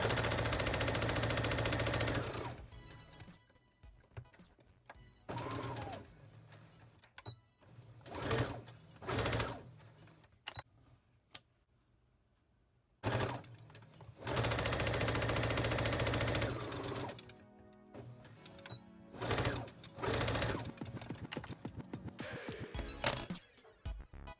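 A sewing machine stitches navy fabric mask pieces placed right sides together, running in several loud bursts of steady mechanical whirring separated by short quiet pauses.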